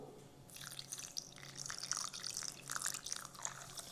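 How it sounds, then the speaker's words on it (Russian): Hot water poured onto bulgur with tomato paste and salt in a bowl, a bright splashing, dripping pour that starts after a brief quiet moment and runs steadily to the end, close by. "добавляем горячую воду"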